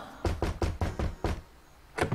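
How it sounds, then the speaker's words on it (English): Knocks on a door in the game Monkey Island 2 Special Edition: a quick run of six loud, evenly spaced raps, a short pause, then one more knock. "I'll knock."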